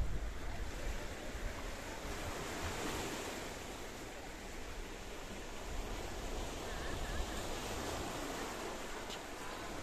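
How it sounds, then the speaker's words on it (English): Sea waves wash along the Paphos coastline in Cyprus, a steady broad rush of surf mixed with wind buffeting the microphone, continuous and fairly loud with no pauses. "I will leave you with the beauty and the spectacality of the blue sea off the coastline of Paphos."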